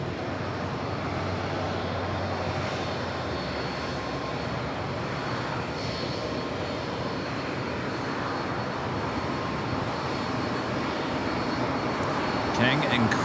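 An airliner takes off from runway 25 right at Los Angeles International Airport, its engines a loud, steady roar filling the whole stretch, with voices talking underneath.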